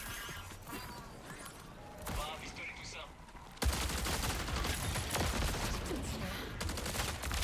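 Gunfire from a shooter on a rooftop in a co-op video game, dense bursts that grow louder and continuous in the second half, with a voice talking over it.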